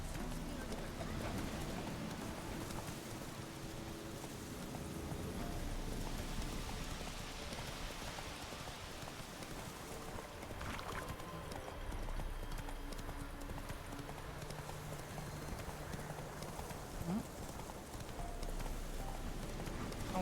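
Roach the horse galloping in The Witcher 3, a fast, steady clip-clop of hoofbeats running continuously under a soft rain-like hiss, with occasional faint talk in the background.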